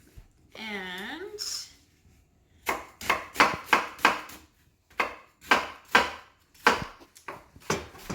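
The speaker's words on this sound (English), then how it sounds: "I'm going to chop up some onion" A knife chopping onion on a cutting board, a run of about a dozen sharp, close chops in uneven bursts, after a short stretch of talk.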